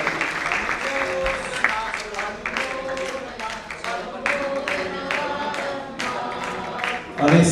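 An audience applauds at a Jain Ashtalakshmi Mahapujan ceremony, with clapping rattling on through the whole stretch while voices carry over it.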